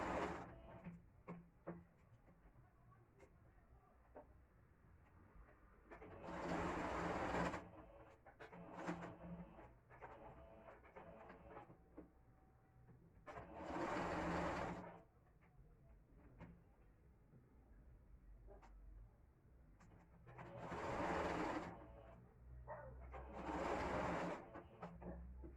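A sewing machine stitches a viscose blouse in several bursts of rapid whirring, each a few seconds long and separated by quieter pauses of handling fabric, heard close and indoors.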